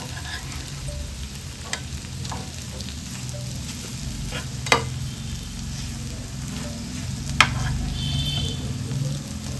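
Spiny gourd slices shallow-frying in ghee in a pan, a steady close sizzle with a few sharp clicks as the pieces are turned over.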